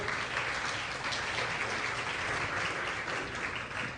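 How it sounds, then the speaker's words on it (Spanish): Steady applause from an audience at a disaster risk management conference session, moderately quiet and even throughout with no voices. "Un aplauso para la señorita Claudia"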